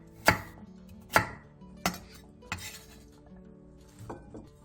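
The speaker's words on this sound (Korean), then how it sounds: "단호박 8분의 1개를 한 입에 먹기 좋은 크기로 잘라주세요." A knife chops kabocha squash into bite-size pieces on a cutting board, five or six loud, distinct thuds spaced about a second apart, close up and with no talking.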